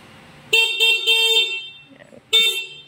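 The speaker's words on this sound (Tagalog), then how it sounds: "Busina." A 400cc 4x4 ATV's horn honks three times, two quick beeps close together then another after a short pause, loud and nearby.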